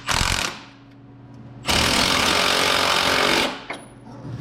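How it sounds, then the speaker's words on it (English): A power tool rattles hard in two bursts, a short one then a longer sustained run, tightening a 19 millimeter bolt on a heavy-duty sway bar end link of a GM/GMC 2500/3500HD truck; loud, close and without speech. "Now I am going to tighten this one down"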